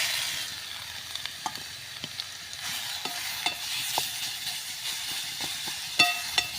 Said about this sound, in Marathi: बीट हे आपल्याला चांगलं परतून घ्यायचं आहे.